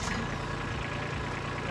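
A tractor with a front loader and hydraulic top link runs its engine at a steady, loud idle, a continuous low rumble with no breaks.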